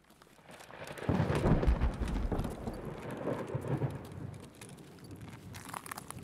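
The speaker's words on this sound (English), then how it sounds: "the thunder and lightning needs to stop." Thunder in the video game Escape from Tarkov, a heavy rumbling roll that swells up suddenly, holds loud with a rain-like hiss, then fades out slowly.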